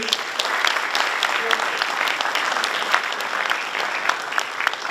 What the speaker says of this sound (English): Another huge applause for Excellency, Dr. Milan, Ambassador of Czech Republic